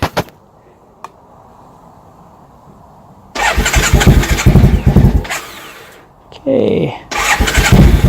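Triumph Bonneville motorcycle with British Customs Predator exhaust pipes cranks and catches, running loud and close in bursts with a brief stall and restart, after a short spoken word and a quiet pause.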